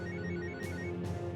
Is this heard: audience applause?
no